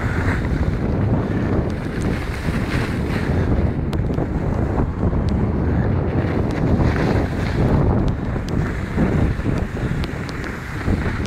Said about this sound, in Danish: Det har blæst lidt op.